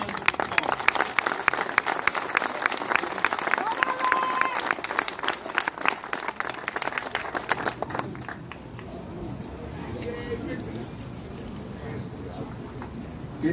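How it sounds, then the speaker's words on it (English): Audience applause at a Bloody Thursday labor gathering for a Cuban leader, steady clapping filling the first eight seconds before thinning out, with pigeons cooing nearby afterward. "Please give him a wonderful round of applause."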